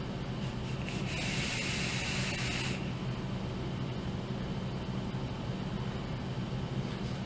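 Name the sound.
dry hit from a vape mod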